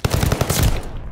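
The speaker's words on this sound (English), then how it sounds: "Yo, this wall gun is so beautiful." Welgun submachine gun fired in Call of Duty: Vanguard, a rapid, loud automatic burst of closely spaced sharp shots lasting about a second before cutting off.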